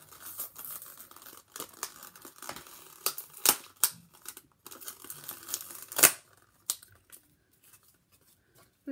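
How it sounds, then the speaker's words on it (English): Quiet, close crinkling and snipping of plastic, with short sharp rips and crackles in irregular bursts, then a few softer rustles near the end. "Luckily I have scissors here, so I'm gonna cut this. And then now I can rip it"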